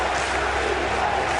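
A roaring Patriots home crowd in a football stadium rumbles loudly and steadily in a brief burst of chanting for the defense, voices blended into one thick wall of sound.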